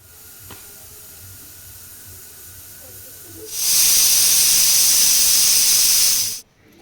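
A pressure cooker of rice and dal khichdi whistles, a loud sustained hissing jet of steam that starts abruptly after quiet kitchen background and cuts off sharply a few seconds later.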